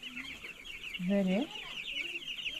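Chickens on a poultry farm, vaccinated birds ready for sale, giving a rising cluck sequence close by with softer clucking and chirps around it, one brief spoken word mixed in.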